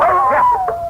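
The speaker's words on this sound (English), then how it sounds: "you fool dog, come back here." A dog in a 1949 Suspense radio drama gives one drawn-out, wavering howl or whine, close and clear, with no voices over it.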